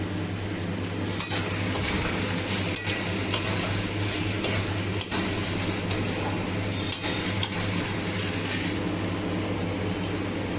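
Potatoes and onions fry with spices, chillies and tomato in a pan, a soft continuous sizzle broken by several sharp clinks and scrapes of a stirring utensil against the metal, no voices.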